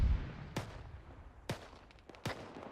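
Sparse gunfire in a military video game operation, three sharp separate cracks spaced about a second apart over a low background rumble, with no talk.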